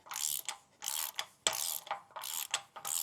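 A Toyota Tacoma CV axle nut is cranked with a ratcheting wrench, giving five repeated bursts of rapid clicking separated by short pauses, close and fairly loud with no talking.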